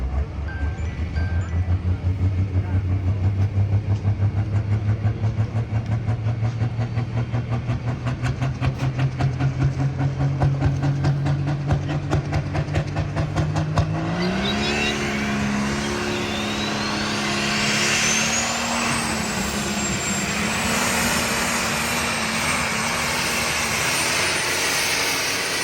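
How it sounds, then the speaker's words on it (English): A team's pickup truck at a callout challenge event idles and then revs, a loud continuous engine drone rising in pitch partway through, heard close without talk. "here's Ben Francis's team's truck."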